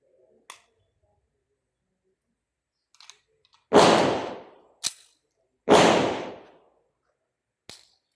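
Two loud, sharp gunshot-like bangs with short decaying tails, a few seconds apart, surrounded by several quieter clicks and snaps in an otherwise quiet space.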